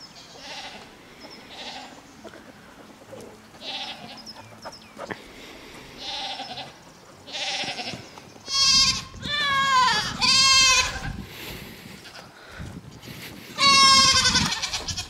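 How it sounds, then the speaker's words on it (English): Goats bleating on a ranch: several loud, drawn-out bleats in a cluster near the middle and another near the end, with quieter calls and farmyard sounds in between. "This is Chief, the new goat."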